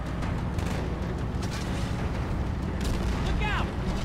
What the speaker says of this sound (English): Who the fuck is shooting us?